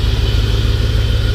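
Chevrolet IROC-Z with a 5.7 engine idling slightly high on a cold start after new 27-pound fuel injectors were installed, giving a steady, loud, close low rumble with no talking.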